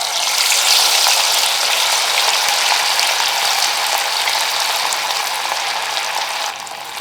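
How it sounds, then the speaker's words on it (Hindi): Masala fish fry pieces hit hot oil in a pan, giving a loud, steady, close sizzle and crackle that holds for several seconds and eases slightly at the end, with no talking. "तेल गरम हो गया है, अब हम इसमें अपनी फ़िश डालेंगे।"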